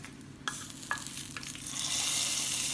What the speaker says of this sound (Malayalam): സൗണ്ട് കേട്ടോ ഇതാണ് നമ്മുടെ താളിക്കുന്നതിൻ്റെ പാകം